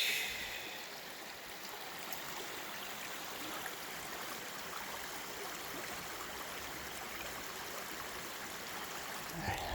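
Mountain creek water flows steadily along Justice Creek on the Appalachian Trail, a constant broadband rush and babble that stays close and even from start to finish.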